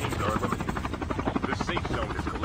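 Steady, close helicopter rotor thumping with a dense engine roar in a video game, loud and continuous throughout.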